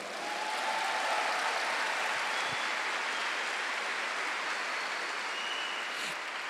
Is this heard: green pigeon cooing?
no